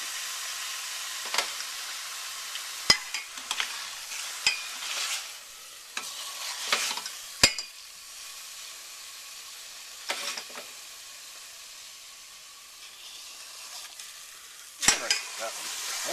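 A pork roast sears in a hot pan for pulled pork sandwiches, giving a steady, soft sizzle broken by occasional sharp knocks and scrapes as the meat is turned.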